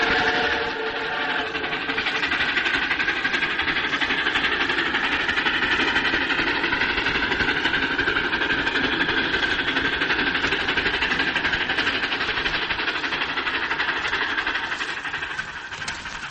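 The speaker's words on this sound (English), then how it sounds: "For the sounds are the sounds of trains." New York Central trains recorded from the rails: a steady, loud wash of engine rumble and wheel noise with layered tonal hums, sustained without pause throughout.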